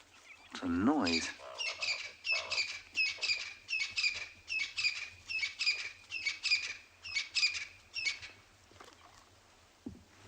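A francolin calls on a sunrise safari, a rapid series of harsh, rhythmic chirping notes repeating steadily at moderate distance, with a brief low rumble near the start.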